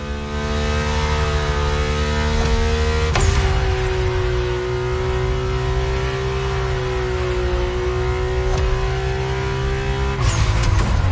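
The Mercedes AMG One hypercar's engine in The Crew Motorfest racing game, a loud sustained high-pitched whine and roar with abrupt pitch shifts as gears change, no speech.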